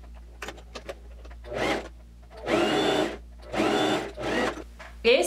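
A sewing machine stitches a narrow double-folded handkerchief hem on a summer dress, starting with a backstitch: a few short taps, then several sustained whirring runs of stitching with brief pauses between.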